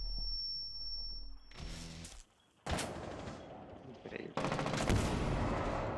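Bursts of video game gunfire come in rapid volleys with brief gaps between them, loud and close, with a player talking over part of the action.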